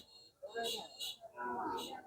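Calves mooing at a rural cattle market, several short, moderately close bellows in quick succession over faint background crowd noise.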